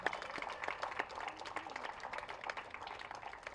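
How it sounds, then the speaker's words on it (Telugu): Audience applause for an honoured guest at a meditation event hall: steady, moderately faint clapping from a crowd lasting several seconds, with scattered louder claps. "వారికి మరొకసారి అభినందించుకుంటాం చప్పట్లతో"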